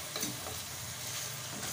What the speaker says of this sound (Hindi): और चिकन को कलर चेंज होने तक हम अच्छे तरीके से भून लेंगे